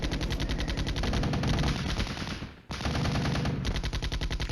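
Continuous, dense machine-gun fire in the wargame Flashpoint Campaigns: Red Storm, loud and rapid, breaking off for a moment midway before resuming just as heavily.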